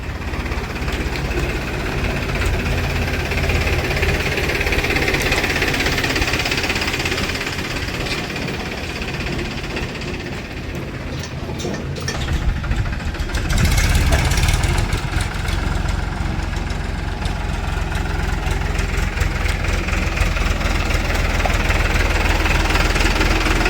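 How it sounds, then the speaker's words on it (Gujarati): A JCB machine's engine runs and idles loudly and continuously nearby, with a steady knocking rumble that dips slightly midway before picking back up. "મશીન લાગી ગયું છે."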